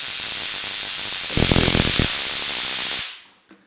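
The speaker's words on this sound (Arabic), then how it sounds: "عندما نضع قطعة حديدية ستنتقل الكهرباء الموجود هنا سينتقل مباشرة إلى القطعة الحديدية" Homemade electric shock device arcing onto an iron piece, a loud continuous crackling hiss that holds steady for about three seconds, with harsher buzzing bursts in the middle, then cuts off abruptly into near silence.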